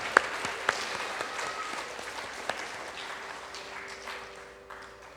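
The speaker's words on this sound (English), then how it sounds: "Big round of applause to all of us here." Audience applause at a fifteenth-anniversary celebration: moderate, steady clapping from a crowd that gradually thins and fades out, with a few sharper individual claps standing out near the start.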